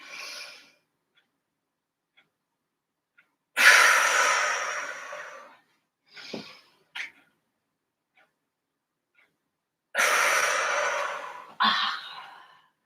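Deep breathing at the end of a full-body strength workout: a long drawn-in breath followed by short snorts, then another long breath out, loud and close with silent gaps between.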